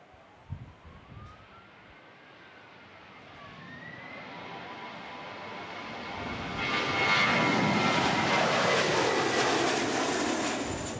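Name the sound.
Air New Zealand Airbus aborting landing at Wellington airport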